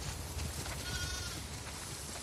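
In The Last of Us Part 2, a sheep lets out a clear bleat midway through, standing out close against quiet farm ambience with no talking.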